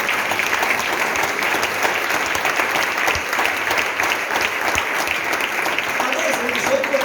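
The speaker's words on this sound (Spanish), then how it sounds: "Den un aplauso fuerte al Señor." A church congregation applauds at a worship service, loud continuous clapping throughout, with voices heard faintly under the applause.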